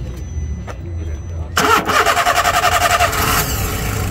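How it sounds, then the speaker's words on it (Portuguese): A Fiat Uno engine cranks with a rapid chugging rhythm, catches, and settles into a steady idle, loud and close, at a used car fair. "Pedi para que o amigo desse partida para a gente escutar aqui o ruído do motor."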